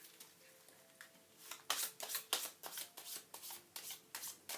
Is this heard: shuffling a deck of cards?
yes